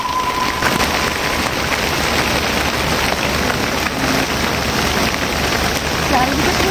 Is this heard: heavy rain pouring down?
yes